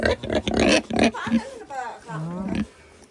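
A pig grunts and oinks close by, mixed in with people talking nearby over a short stretch.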